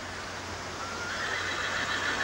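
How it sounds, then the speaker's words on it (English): Horse neighing in a field beside a canal, a faint, fairly distant whinny over steady outdoor background noise, no talking. "I'd much rather listen to the horse in the field neighing"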